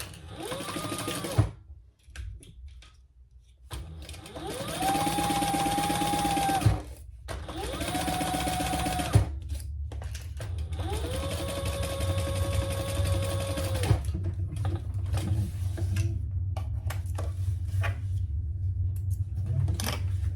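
A sewing machine bastes sling fabric with a 1/8 inch seam, its close motor whirring in several runs of steady stitching separated by brief stops and a low background hum.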